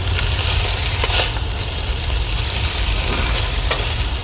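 Hakka noodles being tossed and mixed in a hot pan, a loud, continuous dense sizzle with a low rumble underneath and occasional scraping stirs, heard up close without any speech.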